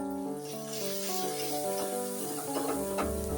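Crushed carom seeds and asafoetida sizzle in hot oil as a tempering for fenugreek greens. The frying makes a steady, close hiss with bright crackle, and tonal music plays over it throughout.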